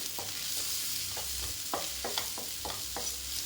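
Onions and curry leaves fry in a pan for a bottle gourd and pea gravy, a soft steady sizzle with a series of light spatula strokes and scrapes close by.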